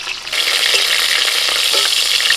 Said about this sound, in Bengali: একইভাবে আরও কটা পটল আছে ভেজে নিচ্ছি